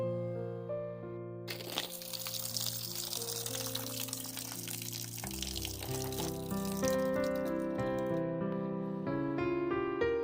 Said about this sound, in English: Okay, they're filled with water. Time to drain them.